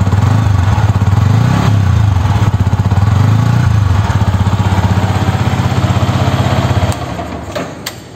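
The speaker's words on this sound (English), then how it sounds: "that's the exhaust note of all new Yamaha R15 BS6" A Yamaha R15 BS6 motorcycle idles and is blipped in a showroom setting, a close, steady buzzing exhaust note swelling in two revs before settling, then fading near the end.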